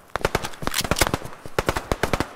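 Rapid machine gun fire in a war video game, a dense rattling volley of sharp shots that keeps going for the whole stretch with a short break in the middle, loud and close.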